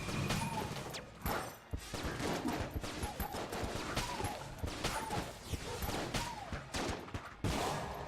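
Dense, rapid gunfire and bullet impacts from the roguelike shooter Enter The Gungeon fill the scene, with fusillades of shots, crashes and game effects in continuous bursts.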